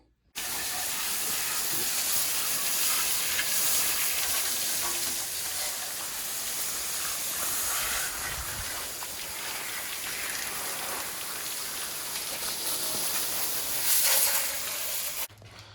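Truck engine block, pulled from a lowrider Ford F150, sprayed down with a washer: a steady, loud broadband hiss of water spray lasting about fifteen seconds, close by, with no talk.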